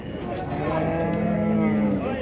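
A dairy cow at a dairy cattle fair in Dois Riachos, Alagoas, Brazil, gives one long, low moo that rises slightly before trailing off, heard fairly close with a little background noise.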